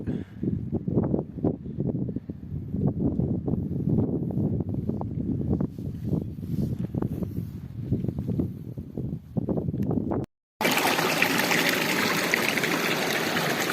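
Water trickling and babbling at a hot spring, a steady close flow of small splashes and gurgles that runs continuously, then briefly cuts out before a brighter, rushing burst of water noise.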